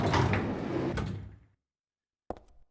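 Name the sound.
door opening in Silent Hill 3 video game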